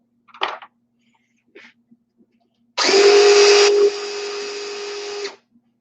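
Small motorized deburring tool running on the flash hole of rifle brass during reloading: a steady close whirring hum lasting about two and a half seconds, dropping in intensity partway through, preceded by a few brief handling clicks.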